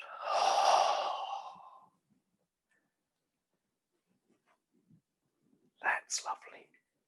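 A long audible out-breath during a qigong exercise, close and breathy for about two seconds, then near silence before a few soft breaths or murmurs at the end.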